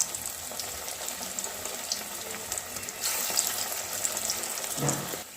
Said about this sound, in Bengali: আমি 3-4টে করে একবারে ভেজে নিচ্ছি।